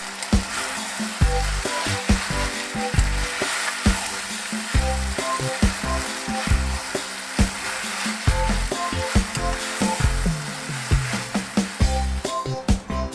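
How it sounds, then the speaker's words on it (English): Noodles tossed and stirred through a thickening sauce in a hot pan for chicken chow mein, a steady close sizzle of frying broken by repeated scraping and clacking stir strokes, with no one talking. "Add the noodles and stir till they are fully coated."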